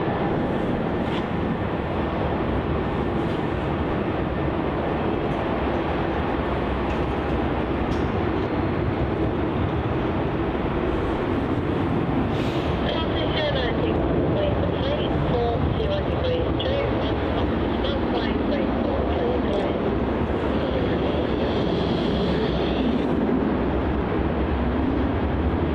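An aircraft, flight VA807 bound for Sydney, departs Melbourne Airport from taxiway Juliet in strong northerly winds, a continuous broad engine roar filling the whole stretch while people talk over it.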